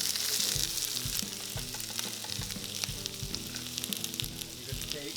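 Vegetables dumped into a hot, watery pan burst into a loud sizzle, then settle into steady frying with repeated stirring and clattering strokes, close up and with no talking.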